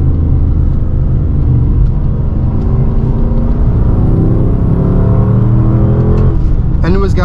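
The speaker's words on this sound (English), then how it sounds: "see, that's a downshift" Dodge Charger R/T with a new exhaust blipping through a downshift while driving, a loud, steady low engine rumble that swells in revs, heard from inside the car with a voice briefly over it.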